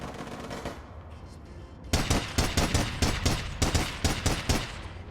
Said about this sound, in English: And don't forget the submachine guns and the shotguns.